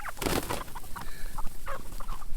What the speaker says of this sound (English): I'm going to feed these chickens because they are starving today